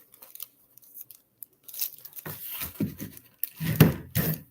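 Strips of tape are torn off one after another while wrapping a small gift, a few short crackling rips close by amid soft handling noises.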